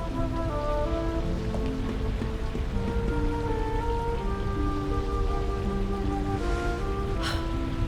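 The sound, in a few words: rain falling in Dragon Quest 11 S video game cutscene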